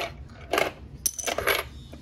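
Coins clink and rattle into a Hello Kitty coin bank toy, with a few quick metallic drops and jangles in short bursts, close and fairly loud.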